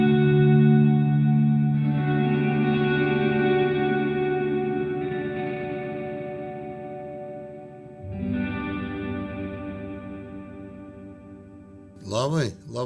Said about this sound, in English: There's almost like a shimmer reverb going in there when you turn the dampening off.